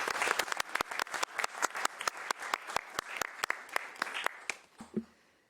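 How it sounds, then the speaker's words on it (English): A conference audience applauds after a scientific talk, with dense clapping at steady loudness for about five seconds before it quickly dies away. "Round of applause, please, for our two scientific speakers."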